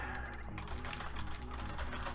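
Clicky typing on a mechanical keyboard fitted with micro switches, a dense, steady run of keystrokes close to the mic with no voices.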